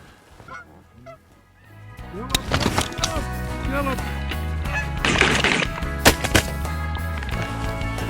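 On a hunt in Saskatchewan, geese honk repeatedly, a few calls at first then a loud overlapping chorus of honking nearby, with wingbeats and some talk mixed in.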